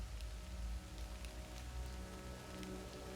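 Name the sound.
rain falling in video game Total War: Pharaoh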